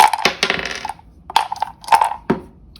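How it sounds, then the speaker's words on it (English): Plastic dice rattle and clatter in a dice cup during a tabletop game, giving a few sharp bright jangling bursts close to the listener, with short gaps between shakes. "I'm going to use a dice cup because it's right there."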